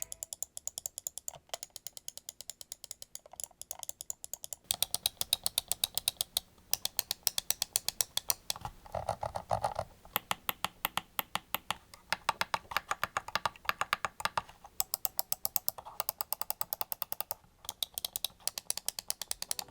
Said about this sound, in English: these optomechanical switches, and they do sound totally different than the older mechanical switches